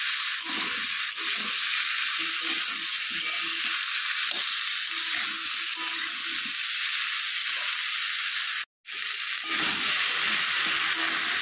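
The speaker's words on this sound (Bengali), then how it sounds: "ভেজে নিতে হবে।" Potatoes and raw banana fry steadily in oil with salt and turmeric, a continuous close sizzle and hiss broken by scraping stirs and a brief silent gap near the end.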